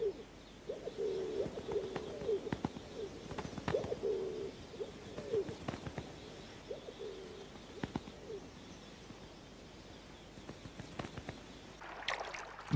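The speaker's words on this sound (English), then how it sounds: "Rock pigeons mate." Rock pigeons cooing in a mountain setting, a series of soft low rhythmic coos over the first several seconds, moderately close, with scattered clicks and faint background noise and no talk.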